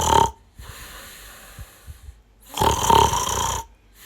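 A person imitates loud snoring for a comedy skit: two long, rasping snore bursts separated by a quieter breathy stretch with soft puffs, close and dry with no other sound.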